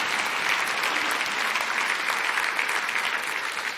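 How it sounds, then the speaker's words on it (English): A city State of the City audience claps steadily and densely in a large hall, a continuous loud wash of many hands with no voices over it. "You can applaud on that."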